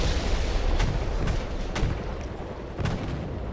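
Tank cannon fire in a video game battle: several sharp, heavy booms at irregular intervals over a continuous low rumble of distant combat.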